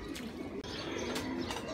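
Pigeons coo softly on a rooftop after rain, their low calls faint and repeated over a steady wash of outdoor background noise.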